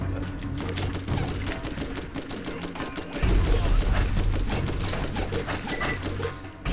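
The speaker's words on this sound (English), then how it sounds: "S&S machine gun with a... Sounds like a moderate fire rate." An S&S machine gun fires in the video game Borderlands, with steady, rapid rounds at a moderate rate that run unbroken through the whole stretch. Loud and close, with a heavier thump in the second half.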